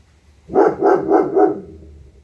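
A dog barks four times in quick succession, close and loud, after a moment of quiet.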